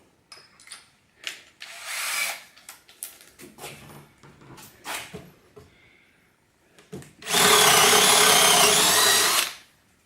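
Bosch GSB 18-2-LI 18-volt cordless drill running in a test, starting with short bursts and ending in a loud sustained whir of about two seconds, with tool handling noises in between.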